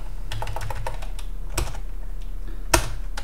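Rapid typing of C# code on a computer keyboard, close and crisp, with an irregular run of key clicks and a couple of sharper, louder key strikes.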